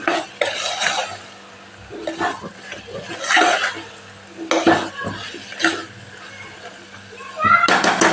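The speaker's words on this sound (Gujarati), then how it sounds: "આપણે મિક્સ કરી લેશું મસાલા સાથે સાતળી લેશું" Brinjal, potato and fenugreek are sautéed with spices for Kathiyawadi shaak, a spoon stirring and scraping around the pan in repeated bursts over a soft sizzle, close by, while someone talks throughout.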